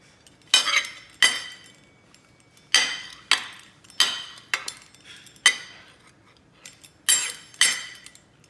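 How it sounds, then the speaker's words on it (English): A pizza cutter rolling through Canadian bacon on a board, making about nine short, sharp clicking and scraping strokes at uneven intervals, close and clear against near silence. "I just use my pizza cutter to cut it in thin slices"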